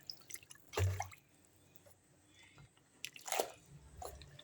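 Water drains and drips from a freshly washed, wrung-out towel, giving two brief, quiet splashing bursts up close over a soft background.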